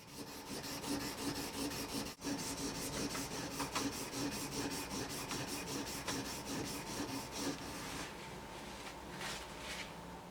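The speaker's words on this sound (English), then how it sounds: "I've joined the modern world here, and I'm using a steel sharpening plate" Carving knives drawn steadily across a double-sided steel sharpening plate, a continuous rhythmic rasping scrape with repeated strokes, close and fairly loud with no talking.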